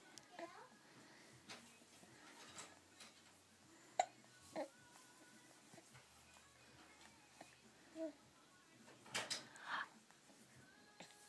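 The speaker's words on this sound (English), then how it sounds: "Hey, you got the hiccups." Small hiccup sounds from a baby boy sitting up, a few brief quiet bursts spread across a soft indoor room tone, with an adult voice talking nearby.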